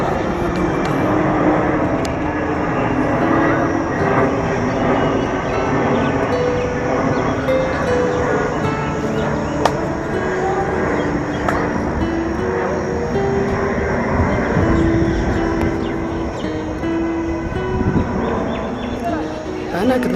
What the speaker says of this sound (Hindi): तो देखिए एक यहाँ पर प्लेन आ रहा है, ये कुतुब मीनार के ऊपर ही है।